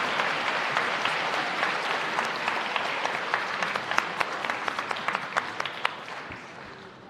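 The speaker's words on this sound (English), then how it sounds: "Give them a round of applause." Audience applause at a high school senior awards evening, a dense continuous round of clapping with distinct individual claps standing out near the end.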